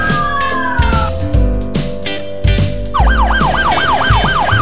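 Siren on a police pickup truck, starting with a long falling wail and switching to a fast, loud yelp that rapidly warbles up and down.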